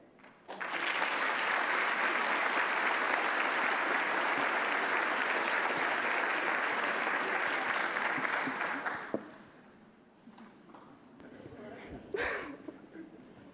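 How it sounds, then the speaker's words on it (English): Audience applause fills a room at a startup demo day pitch, loud and dense for about nine seconds before thinning out into quieter room sound. "Can I just applaud?"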